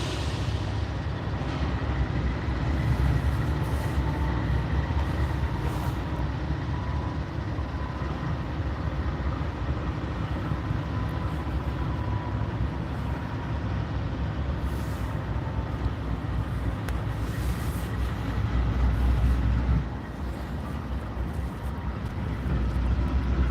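Norfolk Southern diesel locomotives move through a rail yard, giving a steady, loud low engine rumble with a faint tonal hum that runs throughout, no talk.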